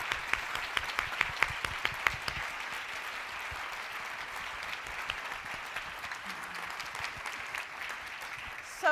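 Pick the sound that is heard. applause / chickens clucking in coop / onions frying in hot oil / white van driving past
applause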